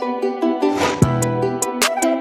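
A quick sound effect hit with a sharp low thud and a short tonal tail, set among bright, crisp percussive ticks over a steady tonal bed.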